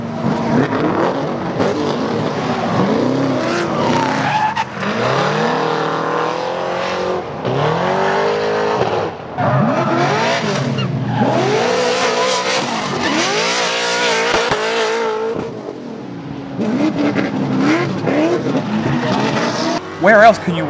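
Race cars drifting and road racing at Virginia International Raceway during HyperFest 2017 give a loud, continuous blend of revving engines and squealing tires, with a voice talking over the din.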